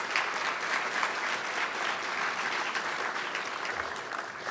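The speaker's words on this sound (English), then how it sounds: "Give him a round of applause." Loud, dense applause from a keynote audience at an Irish American business event, a continuous wash of many hands clapping at an even level from start to end.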